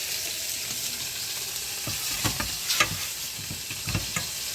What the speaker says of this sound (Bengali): মাছ ভাজাটা হয়ে গেছে, এবার তুলে নিচ্ছি।